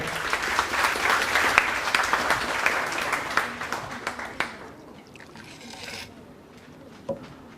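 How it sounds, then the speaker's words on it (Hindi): Loud audience applause at a Ramcharitmanas recitation competition and seminar builds into a dense, bright wash of clapping, then thins out and fades to a few scattered claps and near quiet. "एक बार जोरदार तालियां हो जाएं"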